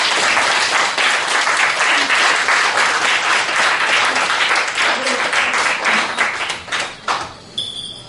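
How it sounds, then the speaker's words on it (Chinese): An audience at a concert by an Amis band applauds in a dense, sustained burst of clapping that tapers off into scattered claps near the end, with a little talk underneath. "我们掌声欢迎他们来唱好吗"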